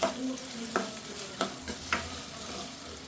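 Onions frying in a pan until browned, a steady sizzle broken by a few distinct spoon scrapes and stirs, close and alone.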